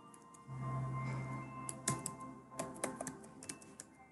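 A password is typed on a computer keyboard, a quiet, close run of irregular key clicks and taps lasting a few seconds.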